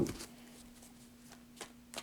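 Tarot cards riffled and tapped in a quiet room, a few soft scattered shuffles with brief louder bursts near the start and end, no voices.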